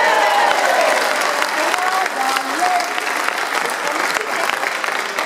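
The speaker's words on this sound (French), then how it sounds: "On va applaudir, hein, comme d'habitude." Council chamber audience applauding during the announcement of Paris municipal election results, dense continuous clapping filling the room throughout, fairly loud, with some voices and crowd murmur mixed in.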